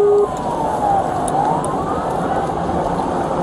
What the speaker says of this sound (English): When he activated his emergency lights and sirens